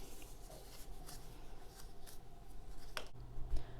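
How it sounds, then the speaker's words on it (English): Paper sheets are folded back and forth accordion style to make rosettes, giving soft crisp crinkles and a few sharper creasing snaps, quiet and close, the loudest near the end. "you want to start folding it back and forth like you would if you're making a fan"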